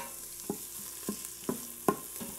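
Bacon and onion render in an Instant Pot with a low, steady sizzle under four evenly spaced knocks and scrapes of a spoon stirring against the pot.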